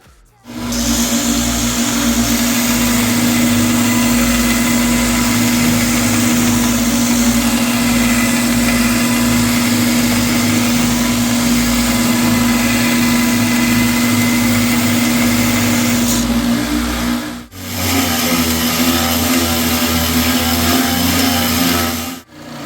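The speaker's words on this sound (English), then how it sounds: "when you're sanding something so small with a high-speed belt sander" A loud, steady high-pitched motor whine runs continuously, briefly cutting out near the end before resuming: a high-speed belt sander grinding a small part.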